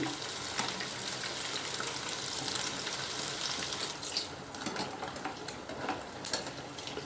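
Apollo fish pieces frying in hot oil, a dense, steady sizzle and crackle with small pops, close and continuous, no one speaking.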